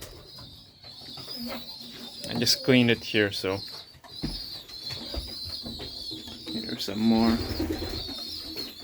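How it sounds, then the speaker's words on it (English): Racing pigeons coo in a loft, repeated throaty calls close by over a steady background hum, while someone talks between them. "So we still have that bird there."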